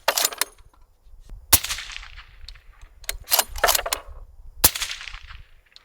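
A suppressed 21st Tec Bellator rifle chambered in .308 fires several sharp, separated shots at irregular intervals, each a loud crack with a short decaying tail over a quiet background.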